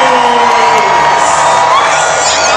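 A large crowd cheers and whoops loudly at a medieval tournament, a dense continuous roar of voices with shouts rising above it, close and sustained throughout.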